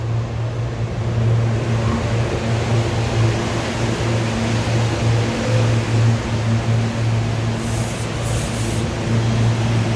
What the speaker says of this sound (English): there goes the train I just got off of